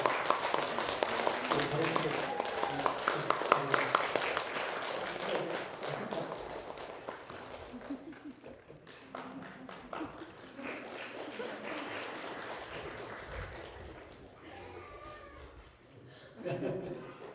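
A church congregation applauds with dense, sustained clapping that gradually thins and fades, with a short renewed burst near the end and talk mixed in.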